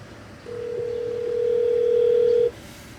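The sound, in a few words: phone call dial tone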